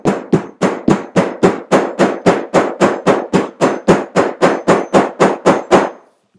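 A sharp-edged hammer striking wet-molded leather over and over to flatten it, about seventeen loud, close, evenly spaced blows in a steady rhythm that stop abruptly, with no talking.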